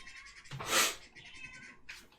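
A cat meows nearby, a drawn-out cry rising and falling, with a shorter meow following over a quiet background hum.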